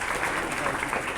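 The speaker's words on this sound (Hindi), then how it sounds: "तालियों में कम गड़गड़ाहट नहीं होनी चाहिए" Applause from an audience at an award ceremony where prizes like smart watches are handed to students, a steady dense clapping wash with no gaps across the short moment.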